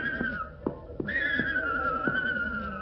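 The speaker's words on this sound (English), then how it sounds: "This here's my horse, Sammy." A horse whinnies in a 1945 radio comedy, a long wavering neigh running throughout with rhythmic thumping pulses beneath, steady and fairly loud.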